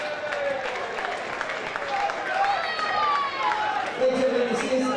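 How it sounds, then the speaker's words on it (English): A boxing event crowd applauds and cheers, sustained clapping and murmur from the audience with a voice carrying over it. "give a big round of applause"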